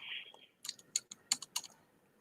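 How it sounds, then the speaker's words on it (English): Someone typing on a computer keyboard in a quiet room: a handful of sparse, crisp key clicks at an uneven pace, faint and close, with no talking. "Still typing here."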